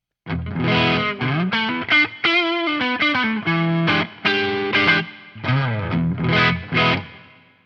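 Electric guitar through a pedalboard with overdrive and reverb, playing loud blues phrases of bent notes and chord stabs separated by brief pauses, with short reverb tails trailing each phrase.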